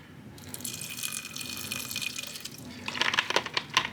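Apple cider vinegar poured onto a raw lamb breast, a soft, steady liquid stream followed by a few wetter splashes and drips near the end, close and moderately quiet.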